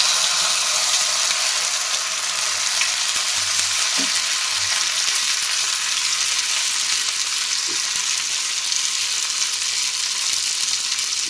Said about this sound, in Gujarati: તવો આપણો ગરમ થઈ ગયો છે. એના પર આપણે આ બેટરને